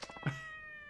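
A cat in Yakuza 4 Remastered gives a single short meow, slightly rising then trailing into a sustained tonal tail, heard alone and fairly quiet.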